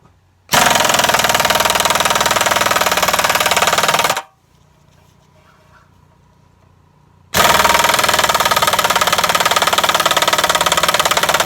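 An air compressor used during ball joint installation on a 1994 Ford F250 runs loudly and steadily, cuts out for about three seconds into near silence, then roars back on at full level.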